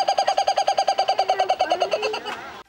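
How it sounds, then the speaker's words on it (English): Kookaburra call: a rapid run of about twenty rhythmic hooting pulses building into a loud cackling laugh, close and clear, ending abruptly. "These birds produce very distinctive laughter, which is often mistaken for the calls of many different animals, such as donkeys or monkeys."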